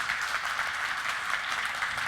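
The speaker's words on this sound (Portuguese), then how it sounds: "eu gostaria de pedir uma salva de aplausos calorosos" Warm applause from an audience at a talk event rolls on evenly for a couple of seconds, fairly distant and moderate in loudness.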